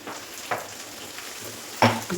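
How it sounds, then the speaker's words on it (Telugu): Tomatoes frying in a pan while a spoon stirs them, a soft sizzle with a few sharp scraping clinks of the utensil against the pan, close and brief. "వేగిపోయింది టమాటాలు వేసి"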